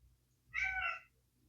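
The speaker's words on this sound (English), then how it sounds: "She also meows a lot, so you might hear that too." A single clear cat meow, short and close, rising then falling, against a quiet background.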